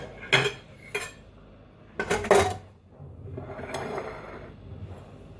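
A freshly baked, still-warm lemon cake being set onto a serving plate: a few sharp clinks of plate and metal, then a louder cluster of clattering dish contact and a soft scraping shuffle, close and alone.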